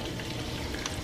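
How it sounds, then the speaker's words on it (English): Shrimp and sausage with zucchini frying in about a teaspoon of oil in a hot pan on a stovetop, giving a steady, dense crackling sizzle that holds at an even level throughout with no voices. "I liked for it to be hot enough for it like to sizzle when you like throw it in there."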